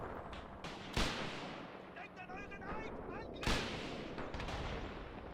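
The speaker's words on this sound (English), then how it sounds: "we can see they're taking small arms mortar fire there" Small-arms fire and mortar blasts from a Graviteam Tactics: Mius Front battle, with two heavy booms standing out over a steady background of distant crackling shots and rumble, while a voice talks faintly underneath.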